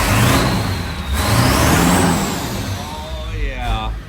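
An upgraded school bus engine with a horsepower upgrade and custom exhaust holds a high idle, producing a steady, loud mechanical drone with a whining pitch that sweeps up and down, under background voices.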